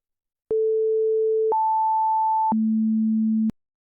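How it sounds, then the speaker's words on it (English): Three clean synthetic sine tones from a Rust DSP audio graph play back to back, each held about a second, a middle pitch, then higher, then lower, steady and loud and cutting off abruptly. "you should hear a few different tones here"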